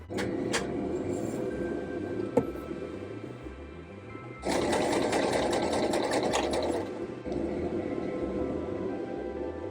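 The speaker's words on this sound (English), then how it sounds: "I'm now gonna take it to the sewing machine" A sewing machine stitches a vintage wool sweater in steady rapid bursts, with a brief pause and a sharp click partway, then a louder faster run before easing off.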